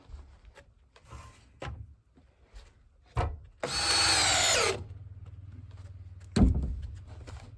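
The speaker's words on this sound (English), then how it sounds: "Just going to use a couple screws just to hold this stuff" A power drill drives screws into wooden hand rails with short whirring bursts and one longer sustained grinding run, separated by quiet pauses and light knocks on the wood, close and clear.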